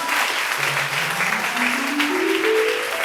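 A church congregation at a Sunday service applauds steadily throughout, with a rising sung or shouted voice of acclamation carried over the clapping.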